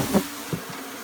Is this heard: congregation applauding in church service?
no